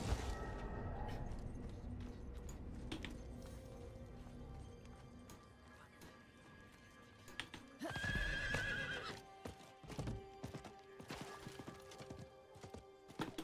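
Horse in the Diablo 4 video game neighs with a loud whinny midway, surrounded by repeated clip-clopping hoofbeats and scattered clattering impacts, close and fairly loud.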